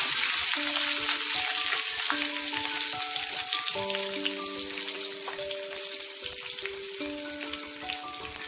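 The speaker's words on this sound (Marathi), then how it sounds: "तेल गरम झाल्यानंतर मोहरी घाला।" Mustard seeds and curry leaves sizzling in hot oil for cabbage fritters, a dense steady crackle with sharp popping, close and loud, fading slightly toward the end.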